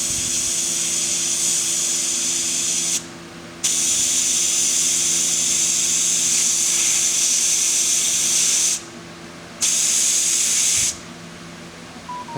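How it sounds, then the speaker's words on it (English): A tire inflator releases air in steady, loud hissing bursts while its side button is held, stopping in two brief pauses before resuming, with a faint tonal hum underneath. "it looks like it lets air out"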